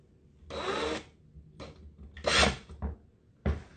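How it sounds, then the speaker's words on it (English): A power drill whirs in several short bursts with pauses between, drilling into the top of a carrot, grinding into something soft and wet, fairly close. "I'm gonna take the carrot and I'm gonna drill a hole"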